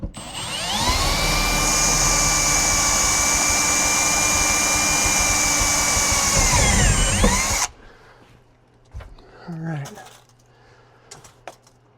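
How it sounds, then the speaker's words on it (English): A power drill bores through aluminum for a rooftop tent access door, whining loud and steady for about eight seconds before stopping abruptly. Afterwards come quiet handling noises and a brief voice. "So let me drill that one out."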